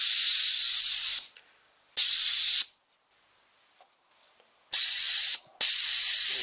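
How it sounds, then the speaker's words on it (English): Automatic transmission solenoid from an A340 gearbox, energized on a bench and leaking air: loud, sharp bursts of hiss that switch on and off abruptly, with silent gaps between them. "Can hear that leak opening when we put power to it."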